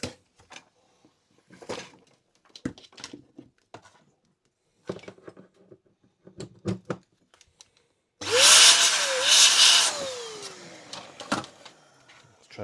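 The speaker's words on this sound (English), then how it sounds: "Give it a quick blast of air" A scrap Technics MiniDisc player that won't read discs gets a loud, sustained burst of compressed air lasting about two seconds, after quiet scattered clicks and taps of handling.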